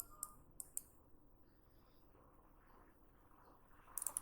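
A computer keyboard's Enter key is pressed repeatedly while drafting in AutoCAD, giving a few faint, crisp clicks early on and a quick cluster of clicks at the end over a quiet room background.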